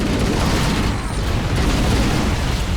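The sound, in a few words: explosions in a video game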